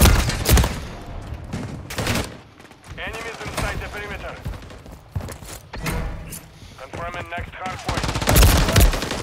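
Rapid bursts of gunfire from teammates in Call of Duty, loud automatic volleys in quick succession with heavy thumps, while players talk over and between the shots.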